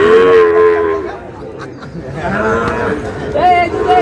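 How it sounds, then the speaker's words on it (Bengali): A young Sahiwal calf at a cattle farm gives loud, close moos, one long at the start and another near the end, with people chattering around it. "শাহিওয়ালের বাচ্চা।"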